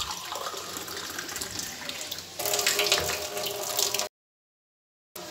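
Water running from a tap in a home kitchen while black pepper chicken is cooked: a steady gushing stream that grows stronger partway through, then cuts off abruptly and briefly resumes after a short silence.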